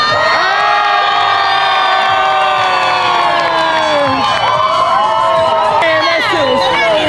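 Large crowd cheering and whooping loudly, with children shouting among the steady roar of voices, close and continuous throughout.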